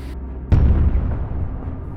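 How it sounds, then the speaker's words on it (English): A drone strike on Russian armour ends in a single loud explosion that hits with a sudden deep boom and then rumbles and decays over a second or so, heard from a distance. "A perfect explosion."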